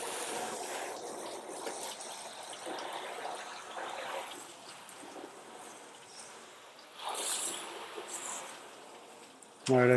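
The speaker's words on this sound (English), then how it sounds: "I'm going to rinse the hood off with some soapy water" Soapy water splashes and trickles over the hood of a Jeep Gladiator, a steady wet wash that runs for several seconds, swelling briefly near the end.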